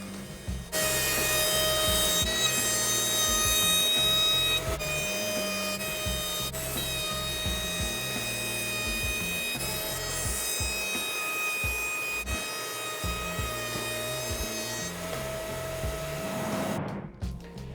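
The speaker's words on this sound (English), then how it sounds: "Next I'm going to take it over to the bandsaw and cut about an 1/8 inch outside the template." A bandsaw cuts a skateboard wood blank about 1/8 inch outside a template. It gives a steady, close motor whine with a continuous rasping cut that runs for about sixteen seconds and then stops abruptly.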